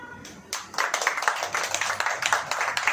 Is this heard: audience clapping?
yes